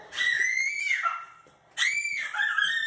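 A little girl screams twice, loud and shrill, each scream held for about a second with a short pause between them.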